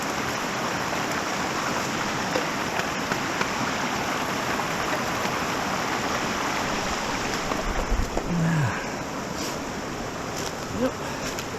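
A creek in the Ozark National Forest of Arkansas rushes steadily at a crossing, a broad continuous wash of flowing water heard up close, with brief scuffs and a faint voice near the end.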